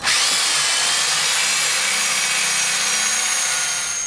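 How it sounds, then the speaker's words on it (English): A power drill with a 1/4 inch bit whines steadily at high pitch for about four seconds, boring a guide hole through copper, loud and close with no talking. "go ahead and drill your 1/4 inch guide hole"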